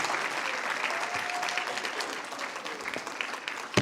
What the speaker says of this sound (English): can we please have a round of applause for the youth group band?